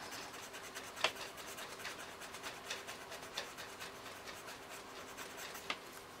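Pencil drawing of cat paws being erased, a soft dry rubbing and scratching of eraser on paper with a few sharper strokes, close and quiet, no talking.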